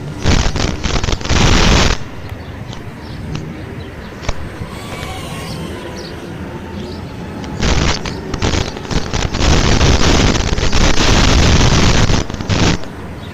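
Strong wind gusts buffet the microphone outdoors during a flight of an Eachine Flying Frog Q90 drone, loud roaring bursts at the start and again later, separated by a quieter, calmer stretch.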